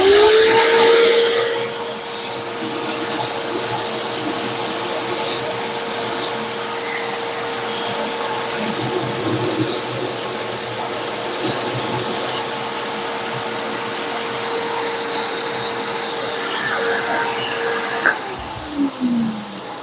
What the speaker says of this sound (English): This is an Ameribraid 2x72 fastback. It is the greatest grinder out there.